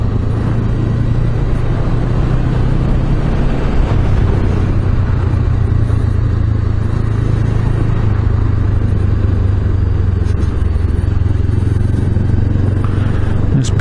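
Honda CB500X motorcycle ridden on a road, its engine a loud continuous low drone with heavy wind rumble that holds steady throughout, with no talking.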